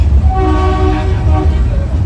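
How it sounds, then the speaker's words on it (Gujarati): A loud, sustained train horn blares steadily over the heavy rumble of a moving train on the Sasan to Junagadh line through forest. "ટકાદાર હોર્ન મારવું પડ્યું"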